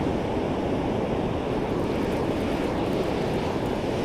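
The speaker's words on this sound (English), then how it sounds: "Big waves though." Big waves break and wash onto Rossbeigh Beach, a dense, steady roar of surf close to the microphone, continuous and fairly loud with no voices.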